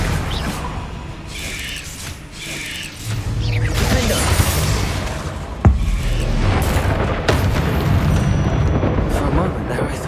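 The Bombarda blasting spell in Hogwarts Legacy sets off booming explosions with crackling debris and a sharp crack partway through, loud and close, while a voice speaks over the blasts.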